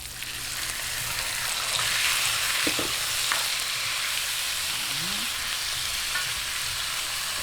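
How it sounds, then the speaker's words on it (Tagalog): Chicken pieces sautéing in a little oil in a pan for Kapampangan bringhe, a steady broad sizzle throughout with a few stirring clinks and scrapes, close and moderately loud, no talk. "Ngayon, isunod po natin ang chicken."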